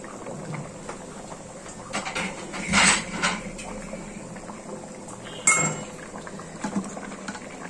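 Khichuri made with everyday rice bubbles in a pot as the lid is lifted, giving a soft simmering burble with a couple of metallic clinks and knocks of the lid and utensils, close and moderately quiet.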